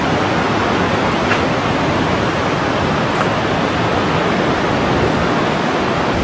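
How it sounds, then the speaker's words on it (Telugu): A waterfall at Nagarjuna Sagar pours between rocks in a loud, continuous, dense rush of water that holds a steady level throughout, with no voices. "గుట్టలు, వాటి మధ్యలో నుండి పరుగులు పెడుతున్న వాటర్ ఫాల్ నుండి జాలువారిన జలధార."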